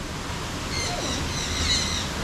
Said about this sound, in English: Here's some more birds for this section.